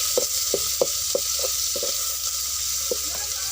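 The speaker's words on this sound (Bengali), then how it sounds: "পেঁয়াজ রসুনটা ভেজে নিব" Crushed garlic and chopped onion frying in oil for a dried-fish curry, a steady sizzle with a run of sharp spatula scrapes against the pan.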